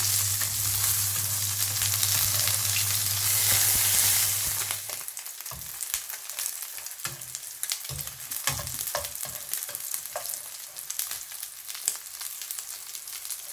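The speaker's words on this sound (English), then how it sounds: "We are going to fry them on high heat." Beef pieces sizzle and crackle in a pan on high heat, loud and steady, with a low hum at first, then lighter spattering pops and occasional clinks.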